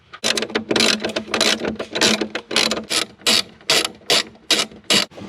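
Loud, close ratchet strokes remove screws under the dash of a C5 Corvette, each burst of fast clicking separated by brief pauses in a steady rhythm, heard alone without speech.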